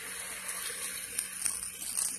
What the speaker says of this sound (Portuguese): Aqui eu vou colocar só mais um pouquinho de água para poder ela ficar mais macia